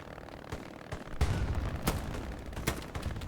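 Shotgun fire in Hell Let Loose on the Utah Beach map, a string of heavy booming blasts at irregular intervals amid a constant rumble of battle.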